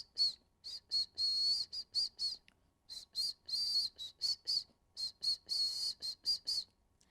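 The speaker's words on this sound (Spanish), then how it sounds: "Los silbidos o pito es usado en distintas partes del mundo como medio de comunicación" Sharp, high-pitched whistles in quick bursts, grouped in rhythmic phrases with short pauses, clear and close with no other sound.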